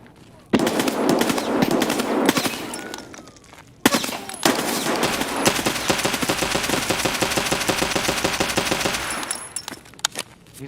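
Rapid bursts of automatic gunfire, loud and close, rattling in a long sustained volley after a few earlier shots, with a brief pause before the firing resumes.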